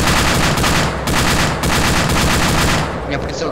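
Loud, close automatic gunfire in ArmA 2 rattles in rapid sustained bursts, broken by two short pauses before trailing off near the end.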